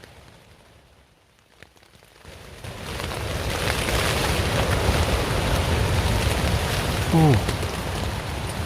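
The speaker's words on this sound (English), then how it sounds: "when the wind's going for it, the rain's going for it" Heavy rain pelts a silnylon hexpeak tent at night in deep woods, rising from a quieter patter to a dense, steady drumming roar with wind gusts; a person briefly murmurs nearby.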